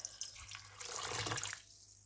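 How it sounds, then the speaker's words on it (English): About four cups of water poured into a pot holding chicken, onion, garlic and ginger for hot and sour chicken soup stock, a steady splashing stream lasting about a second and a half before stopping. "Add about 4 cups of water."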